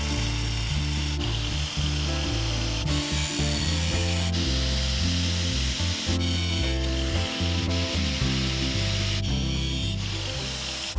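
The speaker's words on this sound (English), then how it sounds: "I'm just making some relief cuts in this before I start down this edge of the hatchet" An angle grinder's narrow cutting wheel makes relief cuts in hatchet steel, loud harsh grinding in repeated strokes with the motor pitch dropping and rising between passes, close and alone.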